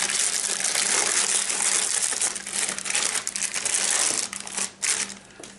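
A sealed plastic bag holding a Philips Aqua Clean water filter for a coffee machine is torn open, giving loud, close crinkling and crackling of plastic that eases into irregular rustles near the end.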